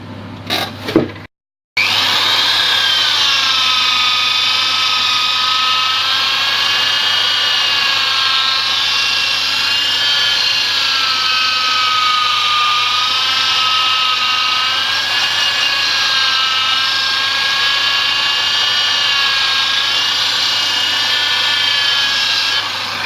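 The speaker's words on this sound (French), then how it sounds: "on va poncer progressivement jusqu'au grain de 600" Sandpaper, worked progressively up to 600 grit, rubs against a wooden cup spinning on a lathe, with a loud, continuous whirring hiss and steady motor hum after a brief knock and pause at the start.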